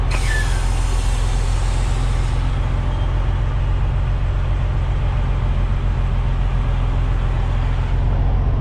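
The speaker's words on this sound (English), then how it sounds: "Trucks all over the place. Dozers, excavators." At a busy work site crowded with trucks, dozers and excavators, a loud, constant diesel rumble fills the air, with a sharp air-brake hiss early on before the heavy engine drone carries on steadily.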